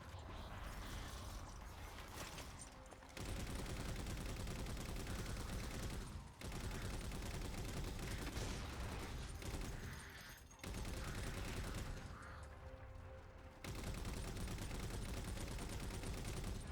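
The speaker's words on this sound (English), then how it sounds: "shoot them down with the machine gun turret" Sustained machine gun turret fire aimed at Knights in the Halo 4 mission Infinity, a loud, dense rattle of rapid shots broken by brief pauses between bursts.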